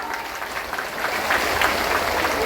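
Crowd at a Bhaubeej celebration gathering in Chandgad breaks into dense, continuous applause that swells slightly toward the end, a broad wash of many hands at some distance.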